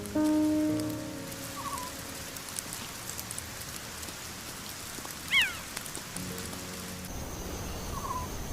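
Steady rain falls across an acacia forest in the Serengeti, a dense even hiss of drops, broken by a few brief bird chirps and calls in the distance.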